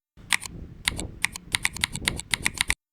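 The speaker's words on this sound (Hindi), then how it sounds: "हम कुछ भी टाइप कर रहे हैं तो हमें जो है वो साउंड सुनाई दे रहा है लाइक मैकेनिकल कीबोर्ड" Keystrokes on a computer keyboard with Mechvibes software simulating Cherry MX Black mechanical switches: about twenty sharp, clacky taps in quick irregular bursts, close and crisp, with brief gaps between runs and no voices.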